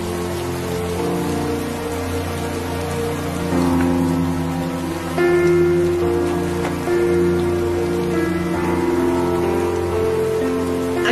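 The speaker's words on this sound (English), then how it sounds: "I think we need to get in out of the rain now." Steady rain falling during a small-town storm, a constant dense patter of drops, with a sustained musical tone running underneath.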